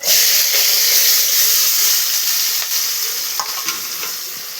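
Onions, green chillies and curry leaves frying in hot oil, a loud, bright hissing sizzle close up that eases slightly over the few seconds. Occasional light clicks of stirring sound against the pan. No voices.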